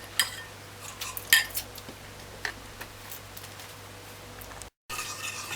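Spoon scraping and clinking against a mixing bowl while Jamaican ginger cake ingredients are stirred together, irregular taps and clinks over a quiet background, with a brief dropout near the end.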